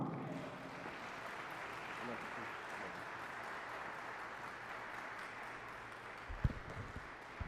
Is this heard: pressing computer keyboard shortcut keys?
no